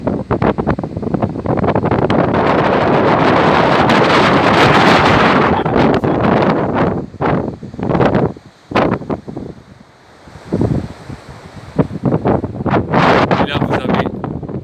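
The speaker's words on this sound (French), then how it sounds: "il y a du vent" Gusty wind roars across a beach by the Phare des Baleines lighthouse on Île de Ré on a sunny early morning, loud and close on the microphone, easing briefly in the middle before buffeting back in.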